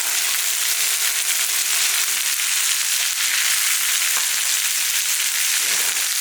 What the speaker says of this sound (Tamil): இந்த புளியோட பச்சை வாசம் எல்லாமே நல்லா போகிற அளவுக்கு நல்லா வதக்கிக்கலாம்